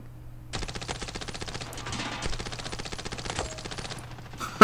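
Rapid automatic gunfire in the mobile shooter Standoff 2, fired through walls: one sustained, evenly spaced burst of close, crisp shots lasting several seconds, with a sharp louder hit at the end.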